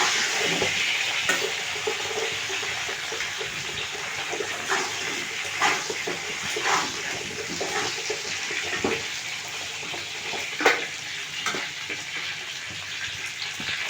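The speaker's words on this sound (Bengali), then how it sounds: "এবার বেগুনগুলো দিয়ে দিচ্ছি। ওই মাছ ভাজার তেলেই দিয়ে দিলাম, আর তেল দিলাম না।" Eggplant pieces fry in the oil left over from frying tilapia fish, making a steady, fairly quiet sizzle with occasional sharper pops and scrapes.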